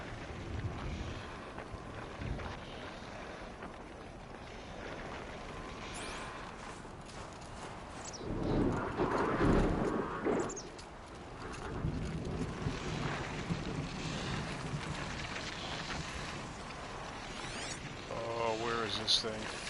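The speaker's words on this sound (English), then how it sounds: "What do I hear, machine?" A robotic machine creature, a Charger, moves in Horizon Zero Dawn's Frozen Wilds expansion, with mechanical clanks and whirs set against gusting wind and ambient game sound, swelling to a louder rumble midway.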